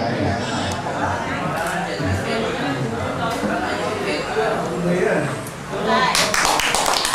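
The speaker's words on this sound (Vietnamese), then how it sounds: "chúng ta cho một tràng pháo tay" Guests clap at a Vietnamese wedding ceremony, scattered applause mixed with crowd chatter and talk throughout, with a sharper burst of clapping near the end.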